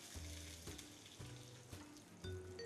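A tuna fillet sears in a hot pan with a continuous loud sizzle, broken by short pulses every half second or so as the fish is turned and pressed against the pan.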